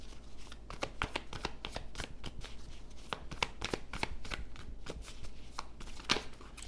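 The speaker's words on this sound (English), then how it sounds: "Sorry, my shuffling tonight." Tarot cards are shuffled by hand in a quick, steady run of crisp riffling and slapping bursts up close, repeating for several seconds with no talk.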